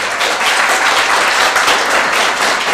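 Steady, dense applause from an audience at a Bowie, Maryland city council meeting, continuous and even throughout with no pauses or talk.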